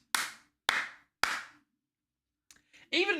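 Three loud, sharp hand claps spaced evenly close to the microphone, followed by a brief pause and a short burst of speech.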